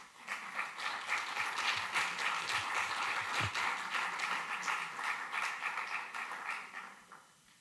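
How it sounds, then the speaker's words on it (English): Sustained audience applause after the applicant pitches at the Falling Walls Lab Italy 2022 event, a dense, steady patter of many hands lasting several seconds before tapering off near the end. "Another big round of applause for our courageous applicants."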